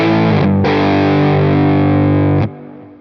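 Neural DSP Tone King capture on a Quad Cortex, with the front boost engaged, gives a loud, distorted electric guitar chord that is struck, quickly re-struck and left ringing for about two seconds before being cut off.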